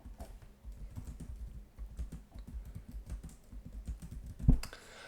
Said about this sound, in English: why don't I actually go ahead and type out what we're first going to do